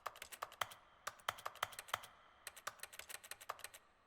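Keyboard typing inside a video game, a fast, irregular run of crisp key clicks with a few short pauses, close and fairly quiet, with no talking.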